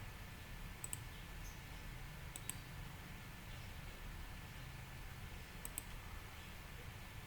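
Sparse, faint mouse clicks in small pairs at a computer while data is pasted into SPSS software, over a steady low background hum with no talking.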